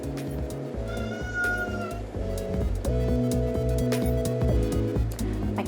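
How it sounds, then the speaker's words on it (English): Two housecats scuffling indoors, one repeatedly crying and yowling in drawn-out, wavering meows that rise and fall over about six seconds, loud and close with no talking. "My cat likes to corner my other cat and then cry like she's the one being attacked"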